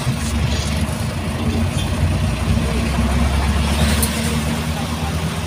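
A Philippine jeepney's engine runs steadily near a downtown market, a low, continuous rumble with even loudness throughout and no clear revving.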